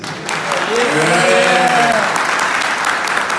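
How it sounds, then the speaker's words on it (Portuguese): Loud audience applause fills a political congress hall of the MBL in Minas Gerais, a dense steady roar of clapping with a raised voice calling out over it midway. "Palmas pra ele."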